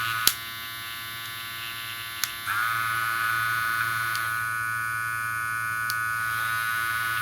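Two brushless cordless USB-C hair clippers running at once, giving a quiet, steady electric hum with a faint click as one switches, nearby and without voices.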